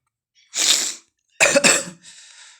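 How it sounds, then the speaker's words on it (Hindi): A person coughs close by: one harsh cough, a quick double cough, then a softer breathy exhale. "सर्दी खांसी हो गई है तो इसको इग्नोर कीजिएगा"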